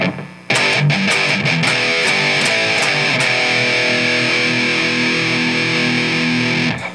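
Distorted electric guitar through an amp with all tone controls at 12 o'clock: a few quick picked notes, then a sustained chord ringing out loud and steady for several seconds before cutting off.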